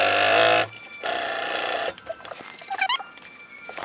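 Sewing machine stitching a patch onto slippery jacket fabric, two short bursts of fast mechanical whirring up close, followed by quieter clicks and handling noises.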